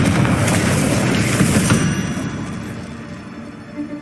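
A Confringo blast fired in Hogwarts Legacy sets off a dense, booming burst of noise that holds loud for about two seconds, then slowly fades into a lower rumble with fiery crackle underneath.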